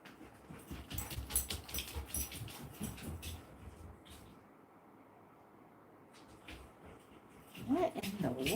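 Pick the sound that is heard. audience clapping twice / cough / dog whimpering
dog whimpering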